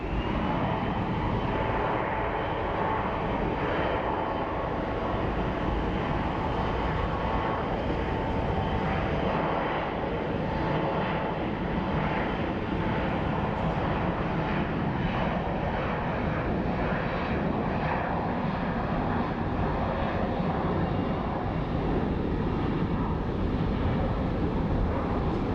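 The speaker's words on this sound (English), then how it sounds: "So, we have a rare departure of a Horizon Air. Baby Embraer is taking off on this side." A small Horizon Air Embraer jet taking off at Phoenix Sky Harbor International Airport, a steady loud engine roar that holds throughout with no talk.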